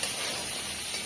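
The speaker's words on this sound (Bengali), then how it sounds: "ভেজে নিচ্ছি" Steady, dense sizzle of potatoes frying in oil in a pan in a village kitchen, continuous and close with no pauses.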